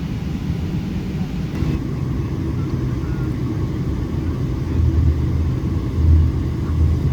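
Emirates Boeing 777-300ER jet engines idling at Dubai before takeoff: a steady, deep rumble that stays close and continuous, swelling slightly toward the end.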